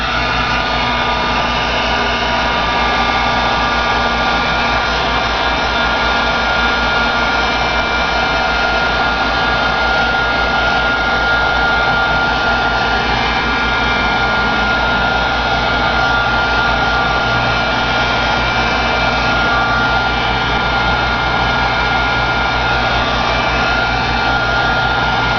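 A hair dryer blowing on wet paint on canvas, a loud continuous whirring hum that stays steady and unbroken the whole time.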